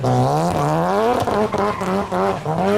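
An Annis ZR 350 in GTA Online revs hard through the gears, its engine note rising and falling repeatedly with brief shift dips, loud and close without speech.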